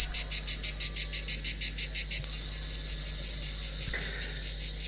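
Loud, steady high-pitched buzzing of cicadas, pulsing at first and then settling into a continuous drone.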